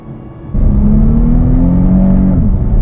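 Engine of a 2016 Porsche Panamera 4 with all-wheel drive while driving, a steady low drone and rumble that swells loudly after a quiet start and holds a rising tone, with no talking.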